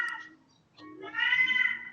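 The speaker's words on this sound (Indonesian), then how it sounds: "Ada kucing tapi." A cat meows indoors during a rainy evening, two distinct meows: a short one at the start, then a longer, louder drawn-out cry after a brief pause, heard alone without talk.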